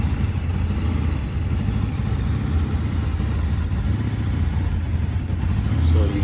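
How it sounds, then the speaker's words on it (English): A 2007 Honda VFR800 motorcycle engine runs roughly on a cold start, a steady low rumble with uneven, sputtering pulses that swell slightly near the end. "Again, here it was pretty much a cold start. You would see that it would sputter and everything."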